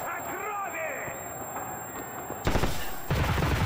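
Bursts of gunfire in the shooter Escape From Tarkov Arena during a tournament match, a cluster of loud close shots hitting near the end after a quieter stretch, with players talking over the action.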